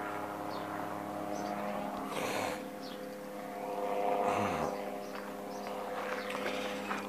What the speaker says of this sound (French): mais non, c'est pas un hélicoptère, c'est un autogire.